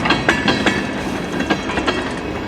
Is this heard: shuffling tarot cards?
no